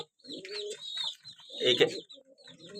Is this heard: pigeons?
yes